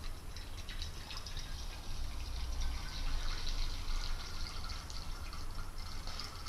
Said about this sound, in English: we are pouring in the hot water in the big